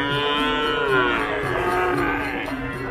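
Cattle bellow at a bustling cattle market on Sapudi Island, where bulls are penned together; one loud, drawn-out moo rises and falls across the clip, close by and clear, with other animals lowing over a busy crowd murmur.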